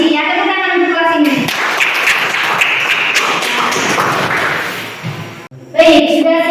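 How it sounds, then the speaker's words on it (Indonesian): Schoolchildren in a classroom clap together for their class, a burst of quick, close taps and thuds lasting several seconds between someone speaking before and after. "Tepuk tangan untuk kelas ini."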